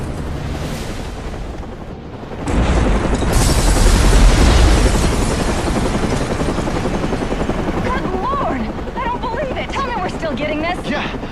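A massive explosion at the Gotham Royal Hotel in the Batman Arkham Origins video game erupts as a heavy boom and sustained roar, with a helicopter-like rumble and voices speaking over the din.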